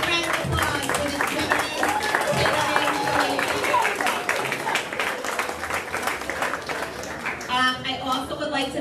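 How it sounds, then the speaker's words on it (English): Guests at a PSAL sports banquet give a big round of applause, lively clapping from a crowded room that rises and thins over several seconds, with voices talking over it. "A big round of applause for this"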